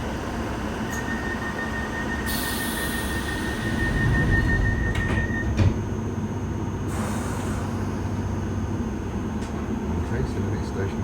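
A London Underground Piccadilly line train runs with a constant rumbling roar, a brief squeal and a louder surge midway, while an announcement voice plays over the noise.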